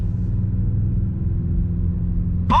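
A 2021 Mercedes-AMG GLE 63 S performance SUV under throttle, heard from inside the cabin as a deep, steady engine drone with low rumbling harmonics, ending in a brief sharp noise.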